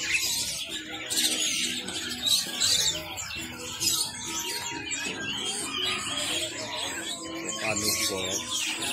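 Busy bird market with caged white starlings (jalak putih) and other birds, a constant mix of chirps, squawks and coos, with people talking nearby under the birdsong.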